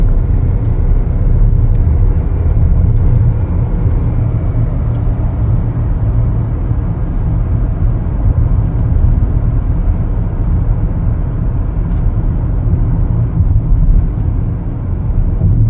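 A 2025 Chevrolet Equinox LT drives and accelerates, heard from inside as a steady loud low engine and road rumble that holds even throughout, with no talking.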